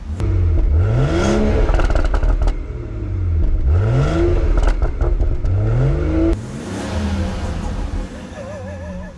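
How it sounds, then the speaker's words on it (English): A BMW G30 540i with an MHD Stage 1 tune revs up sharply twice, engine note climbing and falling, followed by a third blip with crackling exhaust pops as the throttle drops, heard close and loud. "just go ahead and stab the throttle. Let's hear those pops"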